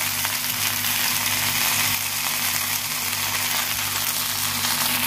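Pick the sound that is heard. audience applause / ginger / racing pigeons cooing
ginger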